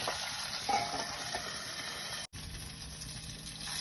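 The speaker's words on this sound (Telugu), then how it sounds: "ఇంకో 5 మినిట్స్ మళ్ళీ మూత పెట్టి ఫ్రై చేసుకుందాము." Fish frying in a lidded pan over a low flame gives a steady, fairly quiet sizzle with a brief break near the end.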